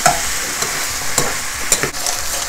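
Beef and Spanish chorizo stir fry with barbecue sauce is stirred in a pan, with a spoon scraping in quick strokes over a steady close sizzle.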